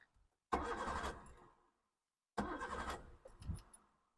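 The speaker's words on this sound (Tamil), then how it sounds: "நான் வண்டியை ஸ்டார்ட் பண்ணி பார்த்துறேன் பாருங்கள்." A Maruti Zen Estilo VXI car engine cranks and fires in two attempts, each a close, rough burst of starter whirr and engine catch that cuts off after about a second, the second try ending with a brief rev.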